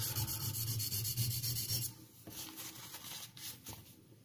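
Steady back-and-forth rubbing of a French Le Thiers pocket knife blade on a sharpening stone, strokes alternating sides, close and continuous, with the scraping briefly pausing and resuming.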